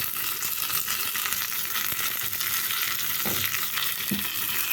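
Curry leaves, coriander stems and asafoetida fry hard in hot oil for a tempering, giving a loud, continuous crackling sizzle throughout.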